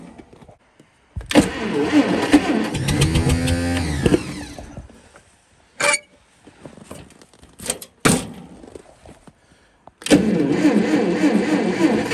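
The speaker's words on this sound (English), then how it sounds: "fire up the Massey, get it warmed up" A Massey tractor's diesel engine cranks and catches, then runs unevenly with revs rising and dipping, with bursts of knocking, and settles into a steady loud idle close by.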